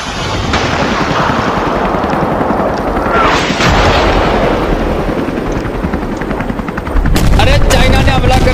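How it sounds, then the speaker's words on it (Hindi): Simulated Chinese air strike bombing effect: a dense, continuous roar of rumbling blasts and gunfire-like crackle, loud throughout, with a rotor-like whir and a sharper burst of noise near the end. "अरे एयर स्ट्राइक कर दी चाइना ने, बम गिर रहा है हमारे ऊपर"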